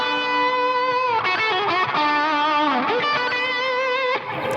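An electric guitar plays a sustained, singing lead solo with delay and heavy reverb over light overdrive from a Nova Drive pedal. Bent notes ring out loud and close with long trailing echoes and no voices.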